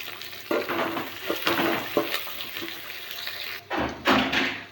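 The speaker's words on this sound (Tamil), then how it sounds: "வெங்காயம் வெந்துட்டுருக்கு." Onions frying and being stirred in a pan for vegetable rice, a steady close sizzle with scraping stirs and brief louder bursts, no talking.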